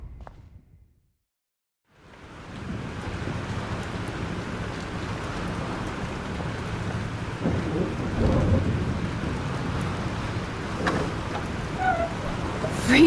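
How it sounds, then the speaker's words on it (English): A heavy thunderstorm in the game Life is Strange: steady, dense rain roars after a brief silence, with deep thunder rumbling underneath and swelling in places. "This storm is real."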